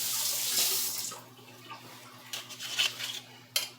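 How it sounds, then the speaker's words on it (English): Hands are rinsed under a running kitchen tap, with water splashing and gurgling close by, rising and falling, and a brief clink of dishes. "I'm just going to wash my hands"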